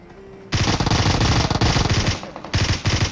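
Burst after burst of M16 automatic fire in a shooter video game, loud and close, starting after a short quiet lead-in and running as dense rapid volleys with a brief pause before the last burst.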